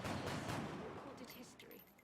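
Gunfire in the alien-combat video game XCOM: Enemy Within, a dense burst of shots and impacts at the start that eases into a quieter clatter of further shots, with a voice murmuring underneath.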